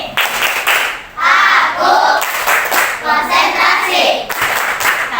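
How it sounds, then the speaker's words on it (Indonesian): A class of trainee teachers performs a rhythmic concentration clap, loud clustered bursts of hand claps interspersed with shouted group chanting. "Tepuk konsentrasi."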